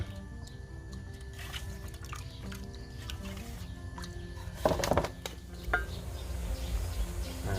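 Soft bubbling and dripping, liquid sounds come from a pot of water boiling for Thai rice-noodle curry broth, gently irregular over a low background rumble, with a brief louder splashy burst partway through.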